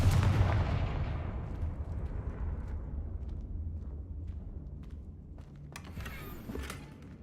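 Confringo blasting spell going off in a Harry Potter video game: a heavy, booming explosion with a long rumbling decay, followed by a sharper crackling burst near the end.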